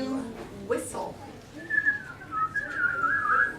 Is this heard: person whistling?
yes